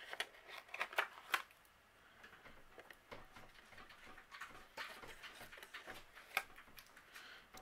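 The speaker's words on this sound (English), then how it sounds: "Just using our scissors, we are going to do the same and trim a piece of acetate" Quiet, intermittent snips and crisp rustles of a thin acetate sheet being cut with scissors, close by, with irregular clicks and pauses.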